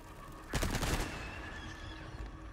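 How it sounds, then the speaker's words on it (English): TMP machine gun in the Resident Evil 4 Remake game fires a short rapid burst lasting about half a second, loud and sharp, then fades into a lingering echoing tail with ambient noise. "This calls for machine gun"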